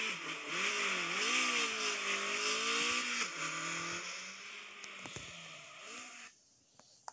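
A car engine in the drift racing game Drift Max revs and wavers in pitch, holding a loud, steady synthetic drone that drops lower partway through, then cuts out near the end.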